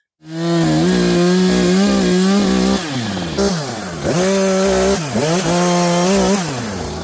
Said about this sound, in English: This is a 59cc two-stroke chainsaw with a 20-inch bar.